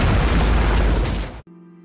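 In a war film set in Mosul, bombs dropped from a drone blow up a car with a loud, deep explosive blast that roars for over a second, then cuts off abruptly.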